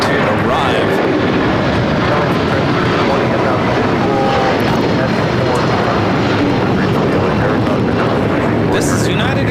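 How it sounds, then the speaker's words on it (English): A United Airlines Boeing 757-300 takes off at LAX bound for Denver, a loud, steady broadband engine roar filling the whole stretch, with voices talking over it. "This is United Airlines 1260 taking off to Denver, Colorado on the 757-300"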